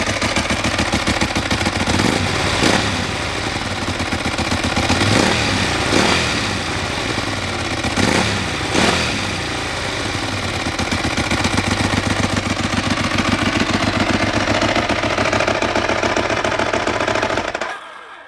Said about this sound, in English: Give the throttle a very quick flip.